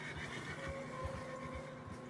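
A horse neighs on a snowy mountain trail, a faint, distant whinny with a wavering tone that rises over soft thuds of movement and low background noise.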